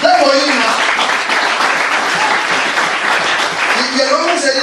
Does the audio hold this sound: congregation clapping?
yes